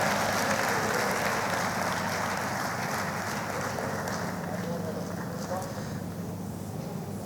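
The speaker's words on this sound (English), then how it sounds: "A round of applause for him as he takes the stage." Audience round of applause as a panelist, a media company CEO, takes the stage, a dense, even clapping wash that holds steady and eases slightly toward the end, with faint voices beneath.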